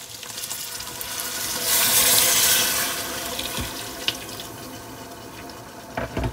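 Water pours from a cup into a pot of browned potato keema, a loud rushing splash that swells near the middle and then settles into a bubbling simmer, with a few small clinks near the end.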